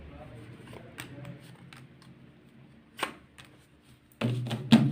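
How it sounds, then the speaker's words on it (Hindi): Tarot cards being shuffled and drawn from the deck, making close, crisp riffles and soft flicks with scattered taps, then a louder burst of shuffling near the end, with faint voice sounds underneath. "तो अब मैं निकाल रही हूँ आप लोगों के लिए कार्ड्स।"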